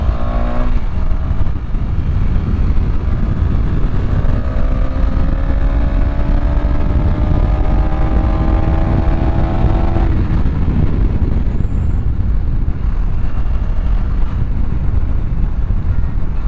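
A motorcycle with a slack chain rides along an open road, its engine droning steadily with rising pitch sweeps as it gathers speed, under constant heavy wind rush across the microphone.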